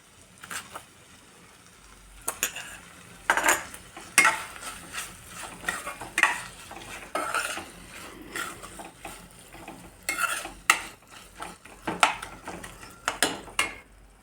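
Paneer bhurji stirred in a pan, with intermittent scraping and clinking bursts of a spoon against the pan over a faint sizzle, irregular and close, with quiet gaps between strokes.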